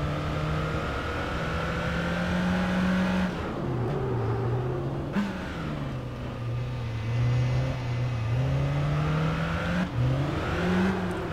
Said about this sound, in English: Whoa, wheel spin.